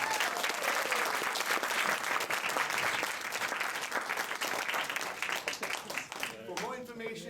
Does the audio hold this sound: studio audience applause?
yes